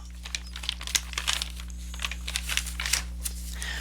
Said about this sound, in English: So you get this blue bag, you unzip it.